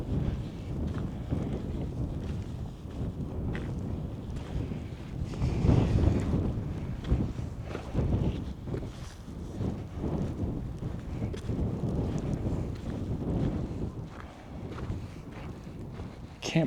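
Steady, gusting wind buffets a walker head-on along a snowy Montana trail, a dense roaring rush that swells and eases for the whole stretch.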